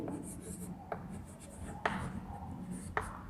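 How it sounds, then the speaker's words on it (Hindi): Pen writing on paper during a geometry lesson: faint scratchy strokes with a few sharp taps, close and quiet, with no speech over it. "लिखते हैं टू प्रूफ।"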